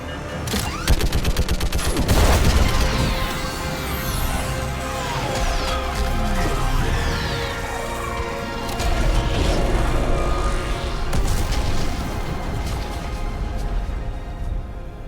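Sustained gunfire and booming explosions from a Mass Effect 3 battle against a live Reaper, with rapid volleys and heavy impacts layered densely and loudly throughout, no talking.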